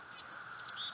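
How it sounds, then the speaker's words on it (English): Birds sing on an evening in Anchorage, Alaska, with a few bright chirps and short calls standing out near the middle and end, over a steady background hum, with no talking. "You can hear the birds singing."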